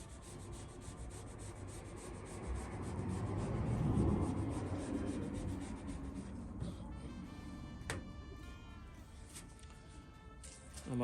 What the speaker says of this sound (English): Use my little squeegee.